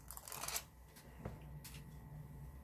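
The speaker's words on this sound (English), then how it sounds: "So we're going to peel it off the backing." Gem stickers being peeled off their backing: a faint, close ripping and crinkling of paper, quickest near the start, followed by scattered soft rustles in a quiet room.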